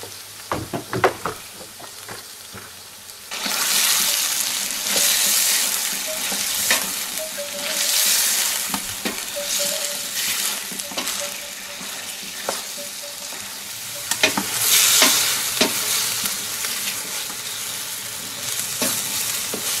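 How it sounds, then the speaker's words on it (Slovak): Onion and meat for a kettle goulash soup frying and being stirred in a pot, a steady loud sizzle with repeated scraping stirs and occasional knocks of the utensil against the pot, no voices. "Cibuľu sme restovali 5 minút a teraz pridáme meso."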